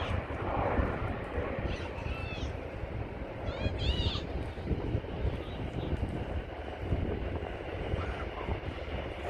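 An aircraft landing at San Francisco International Airport produces a steady, broad, distant roar throughout, with a few brief high chirps and squeaks rising above it.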